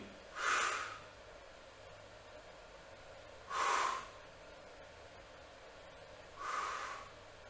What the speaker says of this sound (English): Breathing out on the way up as you're fighting gravity.